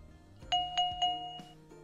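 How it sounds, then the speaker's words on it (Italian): Speakers emit Sonarworks Reference 3 calibration test signals picked up by a measurement microphone: three quick chime-like tones in a row, then a couple of softer follow-up tones in a quiet room. "Quello che ascoltate sono i segnali emessi dalle casse e percepiti dal microfono."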